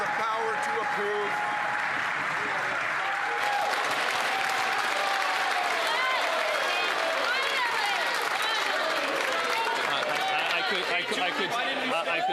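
Sustained applause from members in the Canadian House of Commons during Question Period, a dense wash of clapping and desk-thumping with crowd chatter, while a voice speaks underneath throughout.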